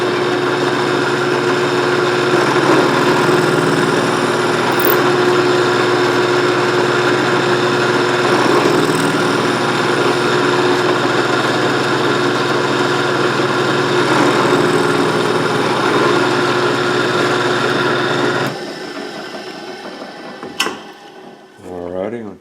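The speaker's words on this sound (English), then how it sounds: "I want that drill to go where I want it to go" A steady, loud mechanical whine of a running drill holds for about eighteen seconds, then cuts off, leaving a few faint clicks and handling sounds.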